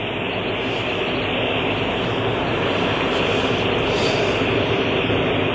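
Airplane at Palam Airport in Delhi, a loud, steady broadband engine roar that holds constant throughout with no breaks, filling the scene without any voices on top.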